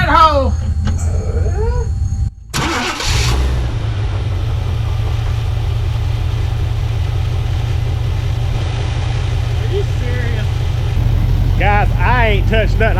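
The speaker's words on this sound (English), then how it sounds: "So we're just going to turn her over, see what she does." An engine fitted with an Evil Energy performance carburetor cranks, fires and settles into a loud steady idle with a low rumble, while someone talks over it.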